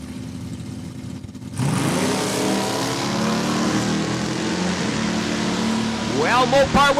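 Drag racing cars, including a Plymouth Duster at Saskatchewan International Raceway, roar off the line and keep a loud revving engine drone, with a rising whine near the end, while a track announcer talks over it.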